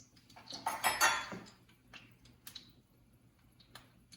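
Garlic squeezed through a garlic press in a home kitchen, heard as a short crunchy metallic burst up close, followed by a few faint clinks of utensils.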